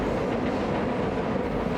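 A passenger train on the Hudson River line near Kingston, New York, rolls along with a steady, loud rumble and continuous wheel-on-rail noise heard from close by.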